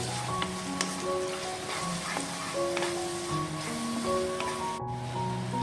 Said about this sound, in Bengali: এখন মশলাটা ভালো মতো কষিয়ে নেব।